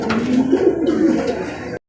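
Close, low, throaty cooing of pigeons, a continuous rolling coo lasting a couple of seconds before stopping abruptly.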